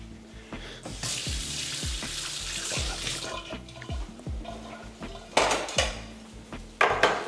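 Pasta goes into a pot on a busy stovetop, with repeated metallic clinks and knocks of pans and utensils over a running sizzle, plus a couple of louder splashy bursts near the end.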